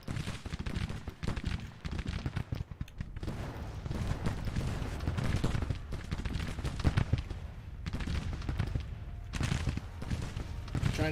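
Battlefield gunfire and artillery in Grand Tactician, a Civil War-era strategy game: dense volleys of rifle fire crackle in irregular bursts, punctuated by deeper cannon booms, some near and some distant, continuous over the whole stretch.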